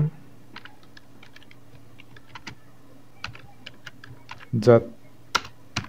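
Typing on a computer keyboard: quiet, irregular key clicks in short runs, with a louder cluster of presses near the end, heard close up beneath a low background hum.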